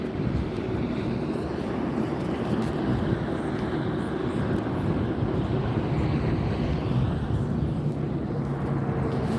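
Strong gusty wind buffets the microphone at a Las Vegas airport, with a steady low roar of airplanes coming in to land in a crosswind mixed into the continuous noise.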